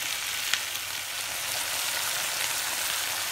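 Green chillies cooking in hot oil for a homemade pickle, giving a steady, even sizzle and crackle that holds on its own throughout with no talk.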